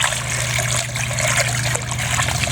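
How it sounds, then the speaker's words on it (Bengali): Water running and splashing steadily as chopped chicken meat is rinsed, a close, continuous trickle with no speech. "মাংসগুলো কাটানো হয়ে গেছে, এবার ধুয়ে নেব।"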